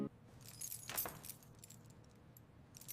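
A bunch of keys jangles close by, a sharp metallic rattle near the start and a brighter shake around the one-second mark, then softer clinks trailing off in a quiet room.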